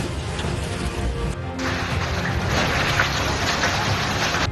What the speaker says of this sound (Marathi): उत्तर प्रदेशात मुसळधार पावसाचा हाहाकार पाहायला मिळतो